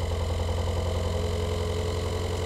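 Ford Model A engine running steadily, a dense low rumbling firing beat that stays loud and even for the whole short stretch, with no voices.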